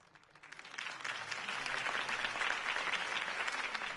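A crowd breaks into applause at a political campaign rally in the Batman: The Telltale Series game, the clapping swelling within a second and holding as a dense, even roar.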